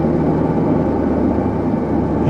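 A 1983 Pontiac Firebird F-body with Crossfire injection idling smoothly, a steady, continuous low engine rumble heard close and alone.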